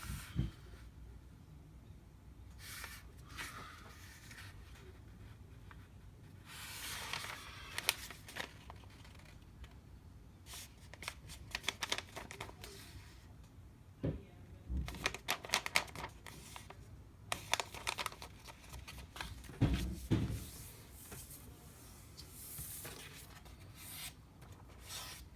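A square sheet of origami paper is folded in half, giving soft rubbing and crinkling rustles in scattered bursts, with sharper crease scrapes around the middle and near the end, close by and fairly quiet.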